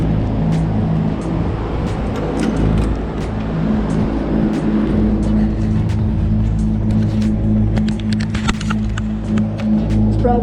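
A car engine at wide open throttle on a dyno, a loud steady drone with strong low harmonics that holds continuously for about ten seconds, with no talk over it.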